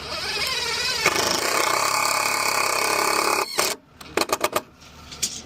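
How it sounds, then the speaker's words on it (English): A power tool drives screws to fix a foam cantilever form in place for a house slab pour: a steady high whine runs for about three seconds, then stops, followed by a few short clicks and bursts. "Screwing it from the face."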